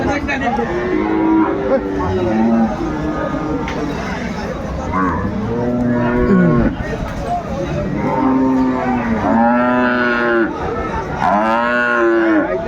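Repeated loud mooing from several dairy cows and calves at a cattle market, long drawn-out calls overlapping, with people talking and murmuring in the background.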